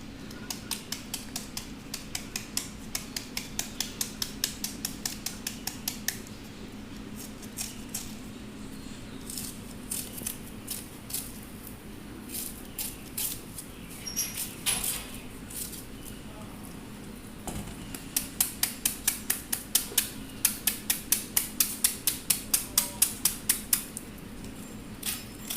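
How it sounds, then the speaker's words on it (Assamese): A knife finely chops banana flower for curry, producing rapid, steady rhythmic taps against a cutting board in bursts with short pauses, close and clear over a low background hum. "এতিয়া কলডিলটো মিহিকৈ কাটি ল'ম"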